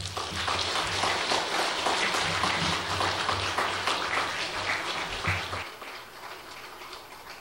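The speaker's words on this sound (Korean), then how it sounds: "이제 목사님 나오실 때 우리 큰 박수로 환영해 주시면 감사하겠습니다" A church congregation at a worship service claps to welcome a pastor: a steady, rain-like wash of applause for about five seconds over a low hum, then fading quickly to quiet room tone.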